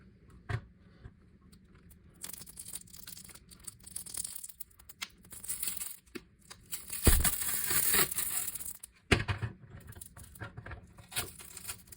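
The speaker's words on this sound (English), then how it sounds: "I'm gonna try and peel this one off and reuse it" Plastic overlay button cover being peeled off an oven control panel, with a run of crinkly tearing and crackling bursts that grow louder midway, close up and without speech.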